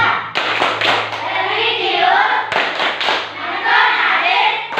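A primary-school class in Indonesia claps out a rhythmic Tepuk PPK chant pattern, loud and close, with bursts of sharp claps and children's voices chanting along.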